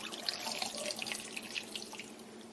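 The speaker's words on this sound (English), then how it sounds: "we're going to take this wonderful syrup and strain it" Homemade elderberry syrup trickles and drips through a fine, tight strainer, a soft continuous liquid splashing with scattered drip sounds, quiet and close.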